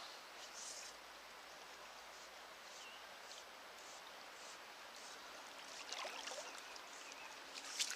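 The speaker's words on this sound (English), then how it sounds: "Ah, small fish splashing." Small fish splashing in a stream while fly fishing, heard as faint, scattered watery flicks and a brief splash over a steady flowing-water hiss.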